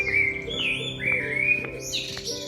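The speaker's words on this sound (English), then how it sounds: "You can hear the birds." Birds chirp and tweet in a quiet city street in Lisbon's Mouraria quarter, clear repeated calls close by over a steady low background hum.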